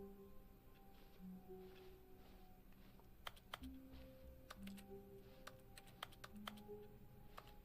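Keyboard typing inside the video game The Stanley Parable, a run of sharp clicky keystrokes in irregular bursts over a quiet ambient room tone, fairly close and soft overall.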